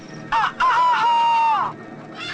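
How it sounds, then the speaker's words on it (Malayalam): A rooster crows once, close and loud, with a sharp opening and a long sustained wavering note that trails off. "അതൊരു കോഴിയാണ് സാർ"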